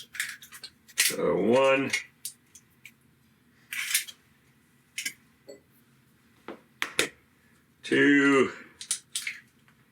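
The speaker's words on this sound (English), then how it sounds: "First thing I want to do is the 2 eggs. I want to crack them in here." Two eggs cracked one after another into a small bowl in a home kitchen for a figgy rice pudding, with sharp taps and shell clicks spaced through the clip and a voice speaking briefly twice.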